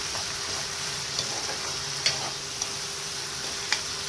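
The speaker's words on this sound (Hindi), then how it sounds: "मसाले को 1 मिनट के लिए फ्राई करने के बाद हम इसमें 1 चॉप किया हुआ टोमेटो जो काट के रखा था वो डाल देंगे।" Chopped tomato fries with spice masala in a pan for brinjal kalonji, giving a steady close sizzle broken by a few light clicks of stirring.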